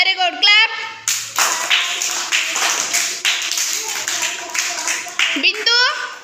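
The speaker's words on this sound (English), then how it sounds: "Very good. Clap." A group of children claps in a classroom colour activity, a steady patter of hand claps lasting several seconds, close and loud, with a voice briefly before and after.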